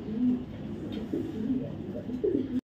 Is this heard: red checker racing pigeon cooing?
yes